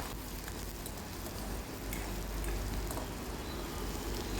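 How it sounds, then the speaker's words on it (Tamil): Fennel seeds, mustard seeds, shallots and green chilli temper in hot sesame oil in a pan, giving a dense, continuous crackling sizzle like rain that holds steady throughout, with a few faint pops and no voices. "இதனை சட்டியில் விட்டு பெருஞ்சீரகம், கடுகு, சின்ன வெங்காயம், பச்சை மிளகாய் போன்றவற்றை போட்டு தாளித்தெடுத்து கொள்ளுவோம்"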